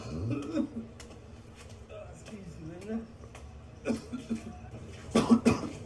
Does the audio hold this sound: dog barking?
no